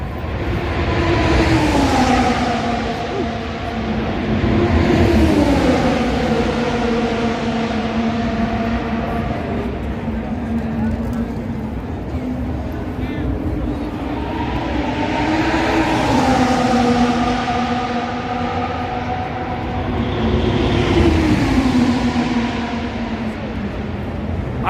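Formula 1 race cars passing on the Las Vegas street circuit, heard from behind the track barrier: loud, sustained engine whine rising and falling as cars sweep by in repeated passes, a steady roar with no voices.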